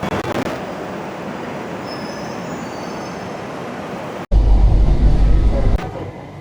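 Kochi Metro train riding along the track, a steady loud rolling rumble with wheel noise that grows heavier near the end as the train brakes or passes through a section, no talking.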